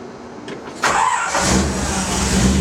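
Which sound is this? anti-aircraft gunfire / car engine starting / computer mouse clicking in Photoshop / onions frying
car engine starting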